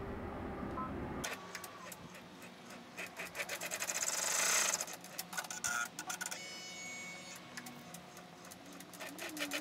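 An embroidery machine stitches square placement lines for Velcro on an in-the-hoop welcome bear sign, a rapid mechanical needle chatter starting after a quiet moment and running steadily, close and moderately loud.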